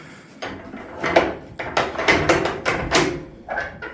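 Wooden stable doors being closed on horses in the evening, a series of close knocks, clatters and latch bumps in irregular succession, with some scraping between impacts.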